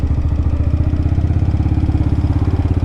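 AJS R7 125cc sports motorcycle engine while riding in third gear, a buzzing, vibrating drone with a rapid regular pulse, loud and close, holding steady throughout with no speech.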